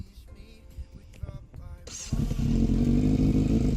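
A cold motorcycle engine cranks and catches, starting with clattering turnover sounds before settling into a loud, steady close-up idle rumble.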